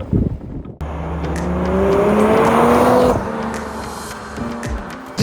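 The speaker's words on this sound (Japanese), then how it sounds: "GP スポーツのマフラーですね。 エグザスエボチューンってやつですか。" A Toyota Chaser Tourer V JZX100 with a five-speed manual gearbox and a GP Sports Exas Evo Tune muffler drives past with a steady, rising exhaust drone, loud and close, then settles into a lower rumble.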